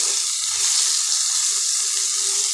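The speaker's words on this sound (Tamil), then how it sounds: "கொஞ்சம் கேரட்டும் தக்காளியும் கொஞ்சம் வதங்குது." Carrots and tomatoes sauté in a pan, making a loud, even hiss of frying that runs unbroken with little change and no talk.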